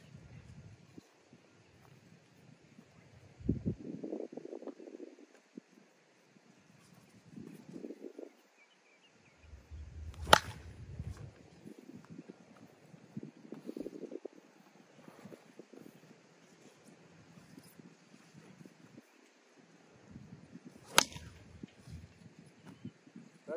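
Two sharp, loud smacks of an Anarchy Crusher softball bat hitting a ball, spaced well apart, with faint outdoor wind and rustling between them.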